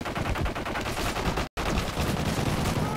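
Dense, loud video game gunfire, with rapid repeated shots rattling continuously, breaking once for a split-second silence before resuming, though it sounds more like automatic fire than single Barrett sniper rifle shots.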